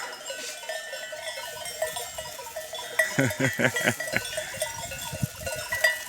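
Lambs and sheep in a pasture bleat in a short, close burst of calls in the middle of the clip, over soft background noise, with someone laughing nearby.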